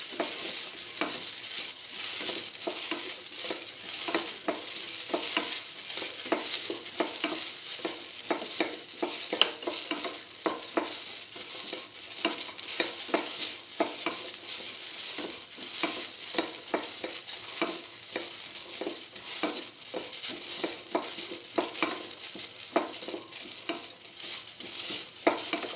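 Onions sauteing in a pan for an ash gourd and egg stew, with a continuous bright sizzle broken by frequent rhythmic scrapes and stirs of a spatula, close and steady throughout.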